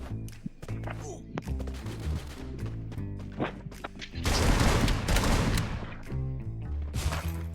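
Gunfire bursts in the battle-royale shooter Free Fire, rapid clustered shots building to a dense loud volley midway, with game sounds and scattered talk around them.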